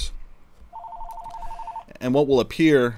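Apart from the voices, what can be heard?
telephone ringing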